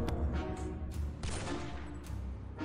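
Bursts of gunfire in the video game 60 Seconds crackle in quick volleys, several sharp shots over a steady low background rumble, no voices.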